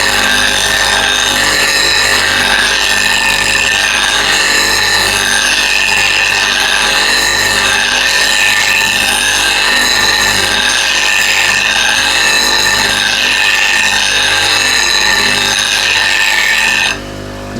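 A grinder sharpens a woodturning bowl gouge with a loud, continuous, rasping grind held close by, unbroken for many seconds before stopping abruptly at the end.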